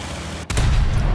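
A single sharp, loud boom of a high-explosive shell hitting the ground in War Thunder, followed by a rumbling, dirt-scattering tail that stays loud to the end.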